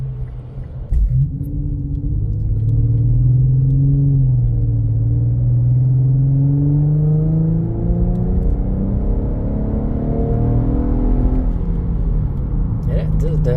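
Infiniti Q50 fitted with a Remark axleback exhaust, heard from inside with windows closed at low RPM: a steady, muffled low engine rumble rising and falling gently throughout, with talk over it.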